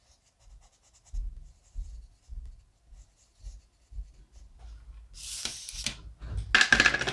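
A colored pencil scratches across paper while filling in a cloud shape in blue, giving soft, rhythmic strokes that repeat about once a second, then a louder burst of scraping and rustling near the end.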